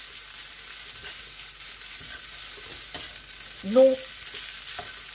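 Drained al dente noodles with garlic and chili hiss softly as they fry in a pan, with a few scrapes and one louder clatter of tossing partway through.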